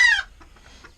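A chicken in a coop gives one short, sharp cluck up close, followed by faint rustling and quiet background noise.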